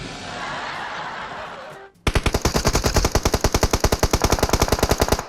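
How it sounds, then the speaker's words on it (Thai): Gunfire in the PUBG Mobile video game: after a couple of seconds of rushing wind-like noise, a long, loud, rapid burst of automatic fire rattles on steadily to the end. "นี่นี่ตรงนี้ตรงกูยิงตายเลย"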